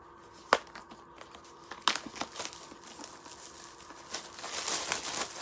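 Paper packing is pulled from the box of a space gray iPad Pro 11-inch, giving close, crinkly rustling with sharp crackles near the start and again around two seconds, then steadier crinkling.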